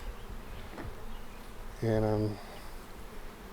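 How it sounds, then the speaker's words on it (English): Honeybees around a hive during installation at a farm, a faint background buzz with one loud close buzzing pass lasting about half a second, and a person speaks briefly. "surrounded by bees from the other install"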